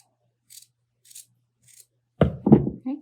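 Scissors cutting a sock for a no-sew snowman craft, three faint, brief snips in a row followed by louder handling knocks and thumps close by.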